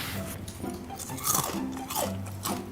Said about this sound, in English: could you chew any louder?